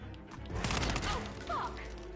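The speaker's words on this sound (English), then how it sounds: "Got him. Gunshot heard." Gunshots in the video game Hitman 2 on PS4, a short cluster of muffled thumping shots fired close together, fairly quiet and blended with game ambience.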